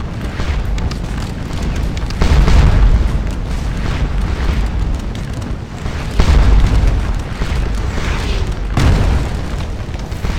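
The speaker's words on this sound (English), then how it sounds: "You guys can actually see our artillery rounds striking the side there" Artillery rounds firing and striking in Scourge of War: Waterloo, several deep booming blasts spaced a few seconds apart over a constant low battlefield rumble, loud and heavy.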